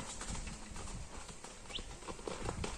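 A horse walks nearby, its hooves clip-clopping in an uneven rhythm over outdoor background noise, with a brief bird chirp and no talk.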